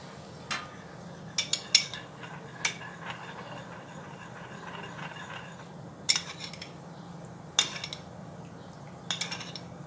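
A spoon scrapes and clinks against a bowl while paprika or barbecue spice is stirred into oil, giving sparse, quiet clicks in short bursts over a faint background hum.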